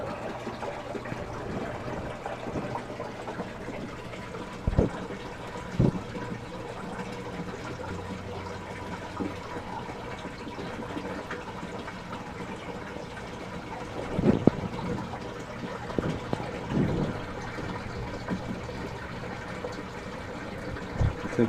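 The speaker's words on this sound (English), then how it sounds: "it's a good fast siphon" Water rushes steadily down through the bell siphon of a freshly tested aquaponics grow bed, a continuous low gurgling drain with a few louder glugs and sloshes, heard alone with no talking.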